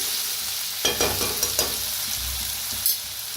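Onion and tomato sizzle softly in a hot pan, with a few close stirring scrapes and clinks in quick succession over a steady frying hiss, with no talk.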